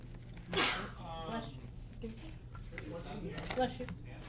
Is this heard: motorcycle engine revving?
no